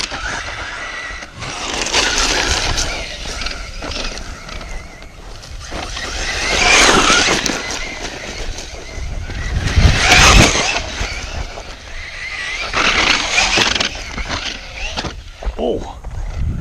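An Arrma Senton 3s RC truck drives on a street, its electric motor whining in surges that rise and fall over the run, with no one speaking.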